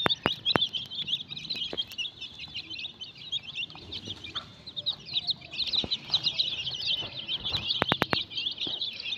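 Mother hen clucking softly and repeatedly among her chicks, with high chick peeps chirping continuously over the top and scattered sharp clicks nearby.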